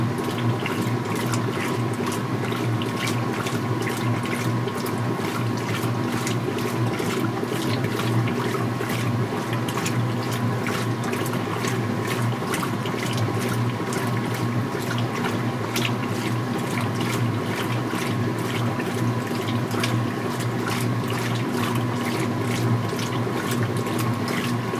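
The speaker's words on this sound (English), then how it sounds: "we have about 4 minutes left in the wash portion of the cycle" A Speed Queen Series 9 conversion washer running its wash cycle. Water sloshes steadily over a continuous mechanical churn and faint rhythmic ticking, an even, unbroken drone with no voices.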